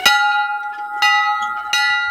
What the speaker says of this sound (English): This is my bell.